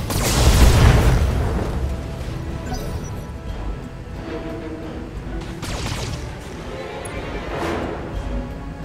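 In the Battletech video game, a weapon fires with a deep, loud booming blast, and its rumbling tail fades into quieter explosions and crashes over several seconds.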